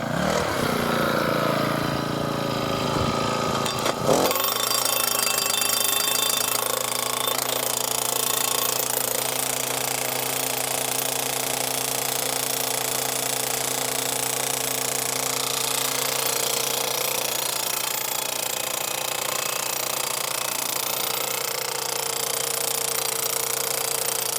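A 7/8-inch high carbon steel anchor rod, made to attach to a fence brace pole, is driven into the ground by a loud, continuous powered hammering drive with a steady engine-like drone, running alone after a brief start.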